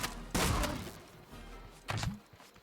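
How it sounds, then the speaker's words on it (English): Guns firing during a raid in the video game Scrap Mechanic, two sharp bursts a second and a half apart, loud and close, with lighter clatter trailing after each. "At least one of my guns just fired off"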